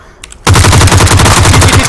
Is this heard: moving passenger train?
no